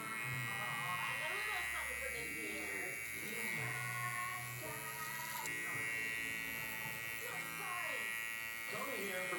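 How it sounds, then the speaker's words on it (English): Electric hair clippers buzz steadily during clipper-over-comb blending of a bald fade, holding a constant tonal drone with slight variations as the blade moves, while someone talks over it throughout. "I'm gonna take some clipper over comb, and I'm gonna start blending this weight line into what I just did."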